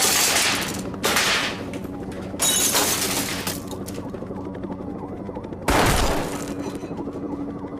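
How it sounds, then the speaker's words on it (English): Gunfire erupts inside a school library during the Columbine High School massacre, with several loud, echoing bursts of shots, each followed by a reverberant decay and a sustained ringing background. "He's shooting in the library right now."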